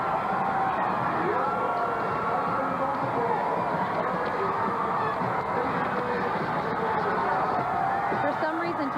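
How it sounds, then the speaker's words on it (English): A very appreciative crowd along the route of Bill Clinton's 1993 presidential inauguration roars steadily as he waves and gestures, with a dense wall of cheering and shouting throughout and voices talking within the din. "The crowd is absolutely going nuts."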